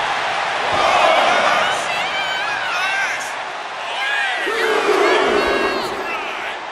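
An arena crowd in the WWE 2K25 wrestling video game roars and cheers steadily, with whoops and chanting swelling in waves under commentary.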